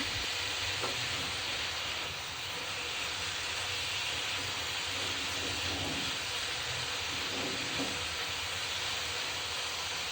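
Bottle gourd leaves fry in a pan with a steady, even hiss of sizzling that runs unbroken from start to finish, with faint stirring under it.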